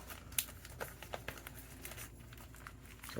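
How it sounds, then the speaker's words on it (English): Plastic wrapping crinkling and tearing as it is pulled off a new Colmi P78 smartwatch, a quiet close rustle with scattered small crackles and taps, no talking. "So let's remove the plastic."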